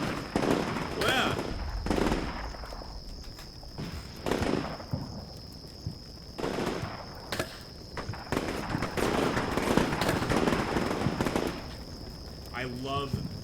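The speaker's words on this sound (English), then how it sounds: "I love this gunfight going on right now, guys." Gunfire in the Combat Mission Shock Force 2 war game, set in a modern NATO ground invasion of Syria: repeated bursts and cracks of shots come and go in clusters at mid distance, with a steady high tone and some talk mixed in.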